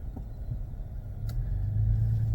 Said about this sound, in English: I am now leaving my chiropractor appointment, headed to the park back in my town to go play with Stormy Dog